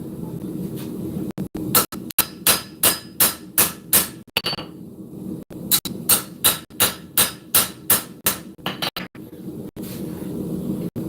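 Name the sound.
hammer blows forging a steel knife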